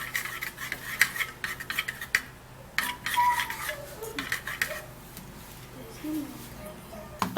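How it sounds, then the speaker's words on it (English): A spoon scrapes and clinks against a bowl as a ginger mixture poured into oatmeal is stirred, with irregular knocks and rubbing strokes close by. "And then you would have to stir a little."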